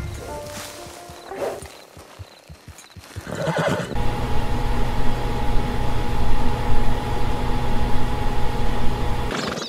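A horse in Red Dead Redemption 2 whinnies and snorts at a hitching post, with hoof clops, then a steady ambient game rumble continues under it; no speech.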